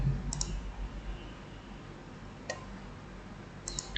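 A computer mouse gives three crisp click pairs at spaced intervals while a database form is edited and saved, each click sharp and close against a steady low room hum.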